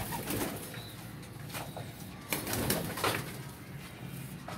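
Young pigeons with new feathers coo nearby, low repeated calls overlapping in a loft with a few sharper sounds and a steady background hum.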